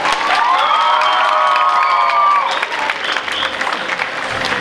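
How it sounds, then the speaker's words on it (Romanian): Applause and cheering from an audience for students at a festive ceremony at Colegiul Național Roman Vodă, loud clapping with shouted cheers and whoops over the first half, then continuing applause. "aș vrea foarte multe aplauze pentru ei"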